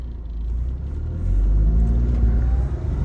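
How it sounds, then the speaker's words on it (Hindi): A Tata Tiago's engine pulls hard in first gear, a loud, steady low rumble that swells and climbs in pitch as the car accelerates, with no one speaking over it. "इंजन नॉइज सुनो आप कितनी"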